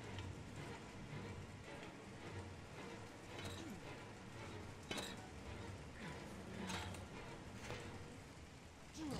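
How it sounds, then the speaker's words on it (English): Steady rain from the video game Heavy Rain falls as a constant wash, with scattered clinks and taps and a low background murmur throughout. "Well, it's raining, isn't it?"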